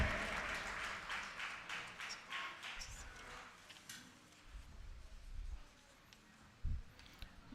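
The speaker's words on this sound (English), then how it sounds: "Huge round of applause, everyone," At an international college conference in Una, an audience gives a fairly faint round of applause for the chief guest. The scattered clapping fades over the first few seconds, leaving quiet room tone with a few isolated taps and knocks.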